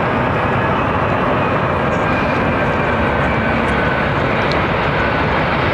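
A Boeing 777-200 with GE engines roars steadily and loudly at London Heathrow, a dense, continuous jet rumble that holds without any voices.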